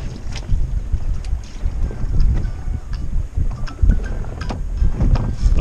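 Strong wind gusts across a lake while out fishing, buffeting the microphone in a steady low rumble with water sloshing against a boat.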